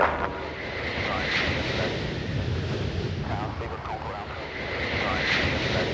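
Concorde supersonic airliners on final approach across London, with a steady broadband jet engine roar and rumble sustained throughout, slowly swelling toward the end.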